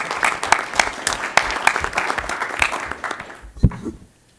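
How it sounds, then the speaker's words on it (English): An audience at a board of authority meeting applauds with dense, lively clapping that swells, then trails off and falls silent at the end. "And we can give you a round of applause."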